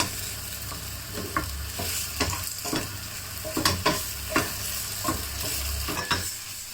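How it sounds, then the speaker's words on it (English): Ground meat sizzles in a hot pan with sauce for tan tan ramen, with a steady frying hiss broken by repeated scraping stirs of a utensil, close and clear, no talking. "continue to stir fry until the sauce is being absorbed in by the meat"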